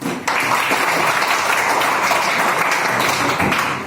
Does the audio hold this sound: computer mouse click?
no